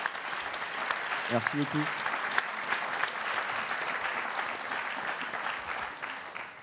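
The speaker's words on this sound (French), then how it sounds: "Je pense qu'on peut applaudir déjà ton parcours." Audience applause for a Vendée sailor, a steady moderate patter of clapping from a crowd, with a short spoken thanks heard briefly over it.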